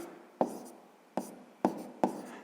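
A hand writes out a sixth-grade fraction subtraction, making four sharp, quiet strokes or taps spaced a fraction of a second apart in a quiet room, with no one talking.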